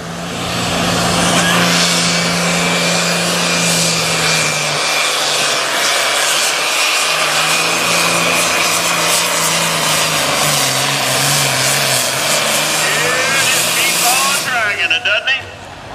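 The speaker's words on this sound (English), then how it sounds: "Gage Ott on the Dream On tractor." A pulling tractor engine roars loudly and continuously at a county fair tractor pull in Sandwich, Illinois, its pitch shifting as it strains, with an announcer talking over the noise.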